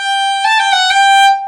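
A single Irish roll ornament on G: a quick five-note figure of melody note, the note above, the note again, the note below and the note again, with the first G held slightly longer. Clear, close and alone, with no talk.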